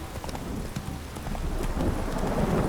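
Roach the horse gallops in a video game during a heavy downpour, with steady rapid hoofbeats thudding close and loud over a constant hiss of rain.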